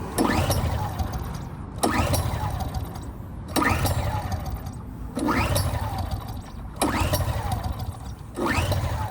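An AiVolt 1600 AGen1600c portable generator, flooded and failing to start, is cranked over and over: six loud, close pull-start bursts about every 1.5 seconds, each a rough mechanical churn that dies off between attempts.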